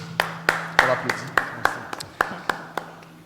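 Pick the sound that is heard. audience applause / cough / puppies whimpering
audience applause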